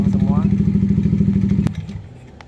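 A Yamaha NMAX scooter with a sputtering, stalling fault idles close by with a steady, pulsing rumble, then a sharp thud at about 1.7 seconds and the engine note drops away to a quieter, uneven murmur.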